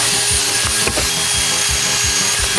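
A power drill bores into a block of ice with a shoe frozen inside, a loud, continuous grinding whine that pulses in a steady rhythm as the bit chews through, with no voices.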